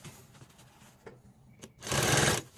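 A sewing machine stitches along a martial arts gi, a quiet run of rapid mechanical whirring that swells into a louder, denser burst near the end, with no talk.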